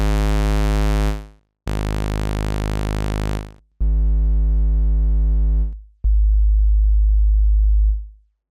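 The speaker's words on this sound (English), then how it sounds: "the standard, most basic waveforms, square, saw, triangle and sine" Four synthesizer tones play one after another, each held about two seconds: a hollow square wave, a bright buzzy saw, a softer triangle, then a pure sine.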